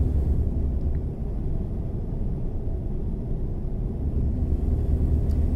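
Background traffic in American Truck Simulator: a steady low rumble of engine and road noise with passing vehicle hum, even and moderately loud throughout, no voices.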